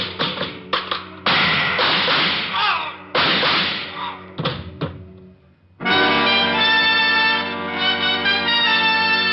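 Radio drama sound effects of a dropped shoe and gunfire: a run of sharp, loud thumps and cracks, then a brief lull before music swells in.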